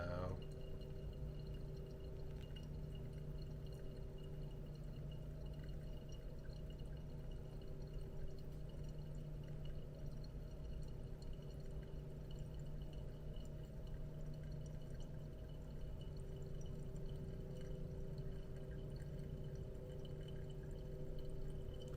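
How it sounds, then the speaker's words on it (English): Water is poured from a kettle over ground Midnight Voyage coffee by Lord & Lady in a Hario V60, a faint steady trickle running continuously beneath a low electrical hum. "so I'm pouring mostly in the center right now"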